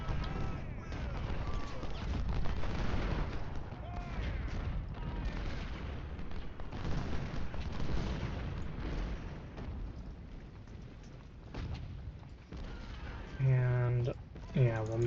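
Artillery booms in Ultimate General Civil War, a continuous low rumble of distant cannon fire rolling under someone talking throughout.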